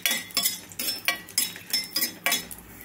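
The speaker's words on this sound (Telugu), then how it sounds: "ఫస్ట్ 3 ఎండుమిరపకాయలను అయితే వేయించుకుందామండి లైట్గా" Dried red chillies roasting in a little oil in a metal pan, with a spoon repeatedly scraping and clinking against the pan in quick, regular strokes, close and fairly quiet.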